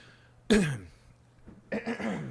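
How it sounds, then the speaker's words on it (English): A man clears his throat into a microphone once, a short loud rasp close to the mic, followed by a second rougher burst of throat noise a moment later. "Clearing my throat into the mic."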